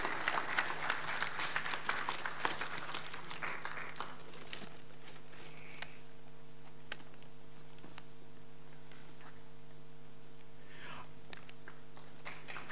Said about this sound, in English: Let's give Mr. Yosefo a big round of applause